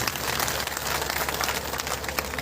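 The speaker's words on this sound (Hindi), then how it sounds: "एक बार जोरदार तालियां हो जाए इस स्थल पर" Steady, dense crackle of applause from a crowd, continuous and fairly loud throughout with no voices on top.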